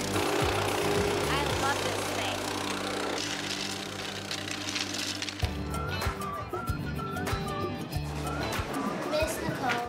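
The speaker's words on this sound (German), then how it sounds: "Die Schotterschicht wird deshalb verdichtet und morgen kommt Beton drauf." A plate compactor that resembles a lawn mower pounds the gravel base of a driveway before concrete is poured, a steady loud engine rumble with rapid thumping throughout, while people talk over it.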